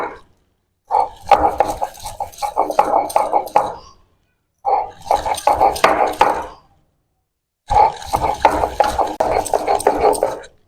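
Lentils ground by hand on a stone shil, heard as three spells of rhythmic scraping and rubbing strokes, loud and close, separated by short pauses.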